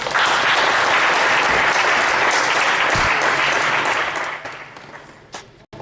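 Loud, full applause from a meetup audience after a presentation, a dense sustained roar of clapping that fades and breaks up in its final seconds.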